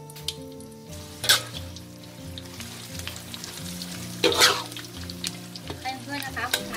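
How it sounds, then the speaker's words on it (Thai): Chili peppers sizzle and crackle steadily in hot oil, with a couple of louder spattering bursts from stirring, close by and otherwise constant. "เดี๋ยวเรามาทอดพริกกันต่อเลยนะ"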